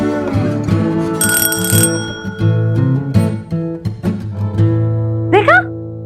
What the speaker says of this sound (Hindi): देखा, बज गई घंटी, घंटी बज गई